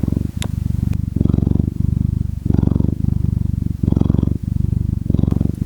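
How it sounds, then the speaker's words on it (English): Close, loud cat purring in a steady rhythm of long rumbling breaths in and out, about five cycles, with nothing else around it. "He loves to snuggle and purr."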